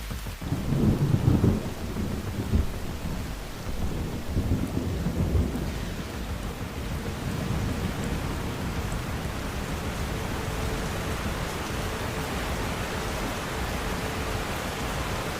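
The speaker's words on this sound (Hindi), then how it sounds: "ये तो कभी इतनी तेज बारिश नहीं देखी" Heavy rain pours in a steady roar during a violent storm in the mountains of Gilgit-Baltistan, with deep thunder rumbling near the start and the downpour continuing unbroken throughout.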